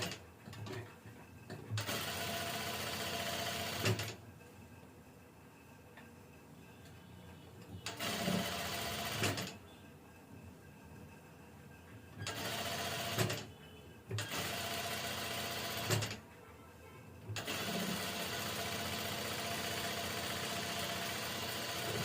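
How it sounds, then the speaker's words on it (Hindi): A sewing machine stitching along the bottom hem of an off-shoulder padded dress, running in steady loud whirring bursts that stop and restart several times, with brief quieter pauses between runs. "ओके, नीचे भी एक सिलाई मार ही दिया जाए।"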